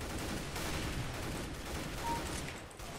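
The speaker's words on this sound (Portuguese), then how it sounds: "o tiro tá comendo solto aqui" Dense gunfire rattles through a round of CS:GO, with rapid overlapping shots forming a steady, quiet crackle that runs the whole time and carries no voices.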